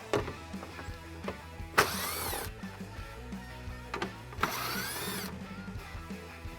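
Power tool driving a 10mm socket to remove the top bumper screws on a 2016-2023 Toyota Tacoma, two loud whirring bursts with rising pitch, one early and one later, over steady background music.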